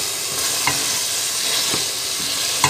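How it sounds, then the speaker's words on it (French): Smoked fish being stirred into a sizzling tomato and onion sauce for Congolese purslane, with steady frying hiss and a few sharp utensil scrapes against the pot, close and alone. "Donc je mets le poisson, puis je mélange"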